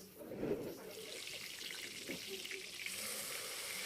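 Onion paste with cumin frying in oil for a tempering of garlic fenugreek greens, giving a steady close sizzle with watery, splashy texture that brightens toward the end, no speech over it.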